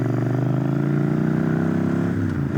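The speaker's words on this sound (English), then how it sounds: "And it has this 2-in-1 aero exhaust, which I think is freaking awesome." A motorcycle fitted with a 2-in-1 aero exhaust running close by, a steady pulsing engine note with a slight rise and fade near the end and no voices.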